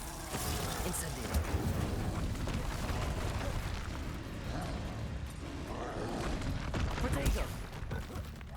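Incendio fire spell cast in the Hogwarts Legacy video game: a dense, roaring burst of fiery magic with crackling impacts and rumbling blasts, sustained loudly across the whole stretch with a couple of sharper surges.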